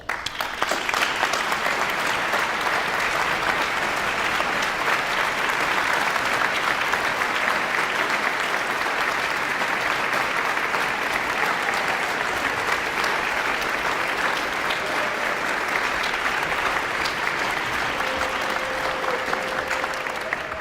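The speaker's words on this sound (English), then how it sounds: "join me in applauding all of them" A large audience at a university commencement ceremony applauding steadily and loudly for about twenty seconds, a dense, even wash of clapping with no pause.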